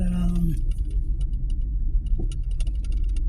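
A car engine idles and rumbles steadily at close range while the vehicle is parked in a driveway in the Philippines, with a brief tonal whine near the start and light clicks and rattles over the low drone.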